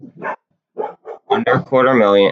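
Dogs bark and yelp indoors while someone talks over them, with short barks followed by a longer, drawn-out howling bark close to the microphone.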